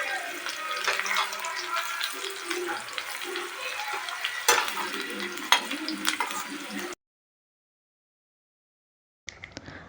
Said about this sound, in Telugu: గోల్డెన్ కలర్ వచ్చే వరకు కూడా ఫ్రై చేసుకోవాలి